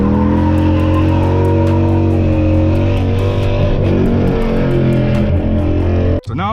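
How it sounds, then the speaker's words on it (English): A Dodge Challenger sliding with traction control off, engine droning loud and close under a sustained tire squeal that wavers through the slide, ending with an abrupt cutoff. "I did a slide with the traction control just off."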